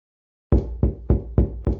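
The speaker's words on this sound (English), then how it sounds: "Why wasn't this jerk opening the door? I carried on with my thudding until my hands hurt." Five heavy thuds of fists pounding on a door, evenly spaced and loud, starting abruptly after a brief silence and continuing steadily.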